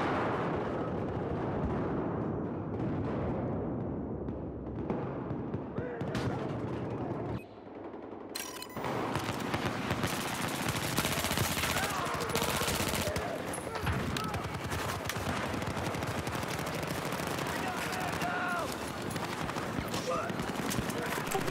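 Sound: gunfire in a shooter video game

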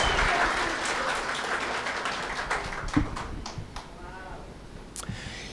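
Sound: congregation applause

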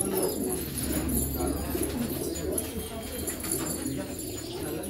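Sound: pigeon cooing

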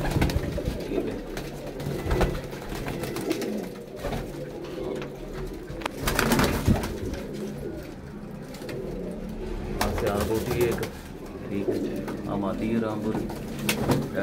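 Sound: pigeons cooing

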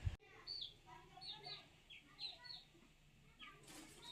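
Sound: hen clucking

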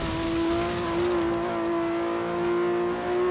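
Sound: car engine driving in the video game Forza Horizon 3

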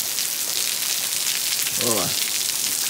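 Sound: heavy rain falling

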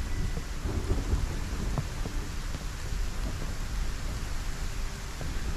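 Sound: thunderstorm weather effect in a Minecraft-style survival video game

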